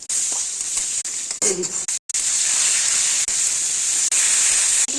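Potatoes sizzle in a hot pan for a Bengali chorchori with beans and cauliflower stems, giving a steady, bright hiss that breaks off briefly now and then.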